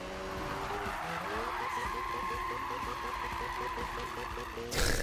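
A car drifting with long tire squeal and skid in the video game Need for Speed 2015, engine tones stepping up and down under the screech, loud and continuous, ending in a burst of noise.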